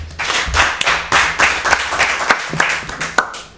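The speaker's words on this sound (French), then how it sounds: "s'il vous plaît, on applaudit" Audience clapping for Konaté Stéphane, team captain, at a school event; irregular, moderately loud claps with sharp individual hits over a hum, steady for a few seconds.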